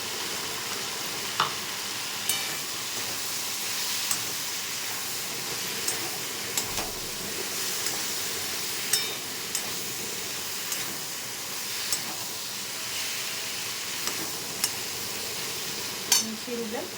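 Egg and pointed gourd mixture stirred in a pan while frying, with a steady sizzle and sharp scraping clicks of the spatula against the pan every second or two, moderately close and alone.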